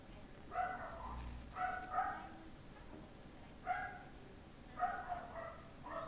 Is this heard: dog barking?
yes